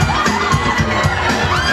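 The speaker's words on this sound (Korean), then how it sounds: "장근석 씨 일자 박수로!" A crowd in Hongdae screams and cheers loudly for Jang Keun Suk's arrival, high excited shouts and whoops layered together in a brief, dense burst close by.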